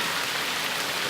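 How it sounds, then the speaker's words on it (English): Steady rain falls on a surface during a heavy downpour on a Caribbean island, a dense, even hiss that stays constant throughout with no voices. "Can you see the rain?"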